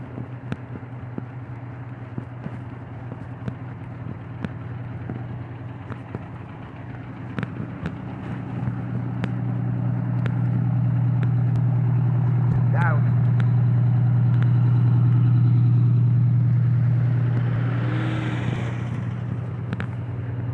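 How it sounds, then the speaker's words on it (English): Road traffic passes near an intersection as a steady engine rumble swells into a louder drone and then fades away, with wind noise and faint voices underneath. "There's a lot of traffic."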